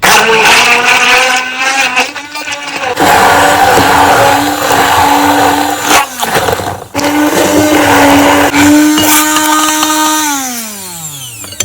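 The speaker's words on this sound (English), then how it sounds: "With the help of my blender, let's blend." A blender motor roars loudly and continuously blending onion, pepper and tomatoes, its pitch shifting slightly as contents churn, then winding down at the end.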